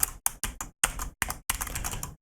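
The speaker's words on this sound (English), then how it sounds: "a lot of times you'll hear like my keyboard and stuff very loud when I'm not talking in game" Computer keyboard keys clacking during gaming, in short bursts of rapid typing separated by brief pauses, close and fairly loud with no voice.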